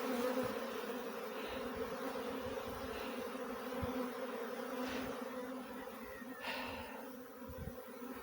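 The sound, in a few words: honeybee swarm buzzing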